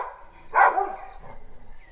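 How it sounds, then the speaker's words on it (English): Several dogs bark from a distance, with one short burst of barking standing out clearly over a quiet outdoor background near a treehouse in Kenya. "We've got 3 dogs barking now."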